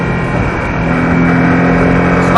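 A Porsche Cayman S engine holds a steady, loud drone that swells as it picks up speed on a track, with rising harmonic tones through the end.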